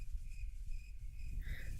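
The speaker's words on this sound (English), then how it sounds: "Yeah, all the crickets." Crickets chirp at an outdoor civic picnic rehearsal, faint repeated high trills in short pulses over a low rumble of background noise, with no voices.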